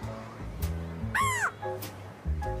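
An African grey parrot mimics local bird calls, giving a few loud, harsh crow-like caws and sharp whistled notes in short separate bursts over a low background hum.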